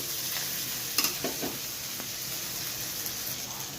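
Ginger paste, chopped tomato, chili, turmeric, salt and cumin powder sizzle steadily in a pan for a curry, with a few sharp stirring clinks and scrapes near the start over the constant hiss.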